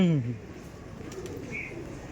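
Pigeons in a home loft give a brief low coo at the start, followed by quieter bird sounds as a person talks nearby.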